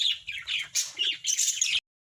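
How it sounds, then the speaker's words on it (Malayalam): An Australian Red fancy pigeon gives a quick run of high, squeaky chirps up close, several short calls in a row before cutting off abruptly. "ഇതാണ് നമ്മളുടെ പുതിയ പ്രാവ്."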